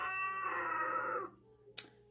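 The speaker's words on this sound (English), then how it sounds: "the other rooster is now yelling back at him" A rooster crowing back at another rooster, one long harmonic crow close by, followed by a brief sharp call after a short pause.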